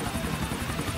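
Helicopter in GTA IV flying low and slowly near people, a steady whirring rotor drone filling the short moment on its own.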